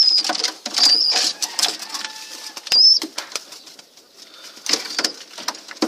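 Pigeons kept by an Iraqi pigeon fancier coo and call in short bursts, with brief flutters and sharp chirps, fairly close in a lofty outdoor space with light background noise.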